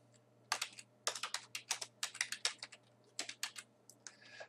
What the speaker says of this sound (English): So if I type